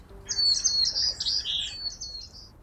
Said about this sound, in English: the white-crowned sparrow sings to mark its territory